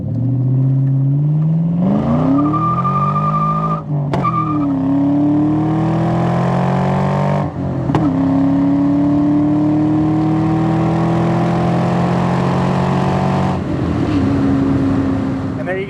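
A 1996 Ford Mustang SVT Cobra with its 4.6 V8 pulls through the gears on a test drive, the engine climbing and dropping in pitch with each shift, loud and close from inside the car.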